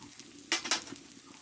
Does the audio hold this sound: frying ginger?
yes